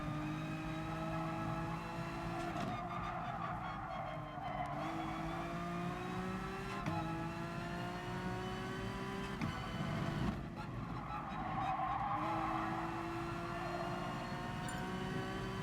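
Honda NSX race car in the GT Sport video game, its engine note rising and falling steadily through gear changes with brief tire noise, loud and continuous throughout with no talking.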